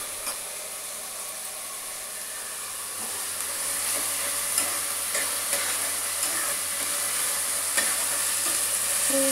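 Chicken sengala curry frying in a pan, a steady, fairly loud hiss and sizzle with faint scraping stirs scattered through it, no voices over the cooking.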